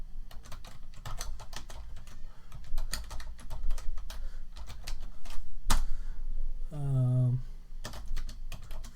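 Steady rapid clicking of computer keyboard keys as C# code is typed, with a brief low hum from the machine partway through; no voices.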